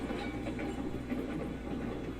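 A train in the Railroads Online game, with the engine pulling its cars uphill, giving a steady, moderately loud rolling rumble with soft rhythmic clatter and chuffing.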